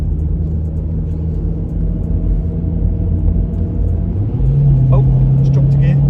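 A cheap used car with a poor gearbox accelerates on the Caterham bypass, a low engine rumble that swells and steps up in pitch partway through as the revs rise, with road noise around it.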